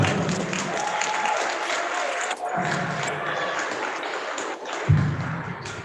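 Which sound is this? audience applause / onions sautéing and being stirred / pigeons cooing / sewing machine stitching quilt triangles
audience applause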